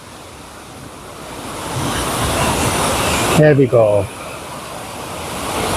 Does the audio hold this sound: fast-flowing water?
yes